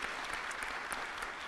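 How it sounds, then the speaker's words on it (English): An evening audience gives a steady round of applause for young people in attendance, dense clapping that holds constant throughout. "I want to give a big round of applause to all the young people that are here this evening"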